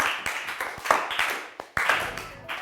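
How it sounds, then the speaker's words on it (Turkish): Scattered, fairly faint clapping from a studio audience on a Turkish word game show, a loose patter of individual claps rather than a full ovation. "Gerçekten hak edilmiş bir üzgün alkış."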